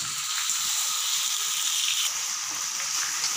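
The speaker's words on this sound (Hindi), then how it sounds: "गोश्त, बीफ, गोश्त को करेंगे हम अच्छे से फ्राई।" Beef pieces frying in a hot pan, a dense steady sizzle and hiss close up, with faint stirring noises underneath and no speech.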